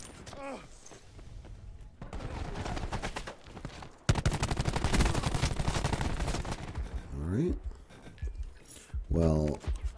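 Gunfire in the Call of Duty Black Ops video game on a new map, bursts of rapid shots and thuds mixed with game effects while a person talks over them.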